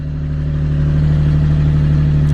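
A Nissan 370Z Nismo engine runs loud and close just after a cold start, with a steady, slightly rising high-idle drone and a faint mechanical clatter, no voices.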